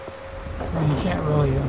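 Rain falls steadily in a video game set in a rainy quarry, a dense patter heard alongside tonal game sounds and a voice.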